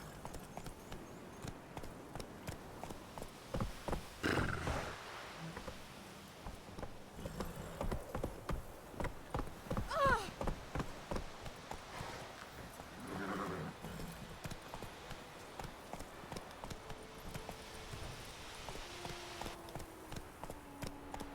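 Roach the horse gallops in The Witcher 3: Wild Hunt, a rapid drumming of clip-clopping hooves running close and loud through most of the stretch, with an occasional whinny and brief rider shouts.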